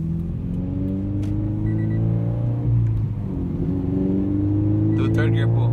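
A Scion FR-S with a Greddy Remark muffler-delete exhaust pulls hard in third gear on a freeway, heard from inside the car; a loud, droning engine note climbs steadily under heavy road rumble.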